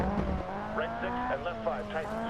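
An Abarth 131 rally car engine in Seb Loeb Rally Evo, revving and shifting through a Monte Carlo stage. The engine note is strong and rises, falls and rises again, with a voice talking over it.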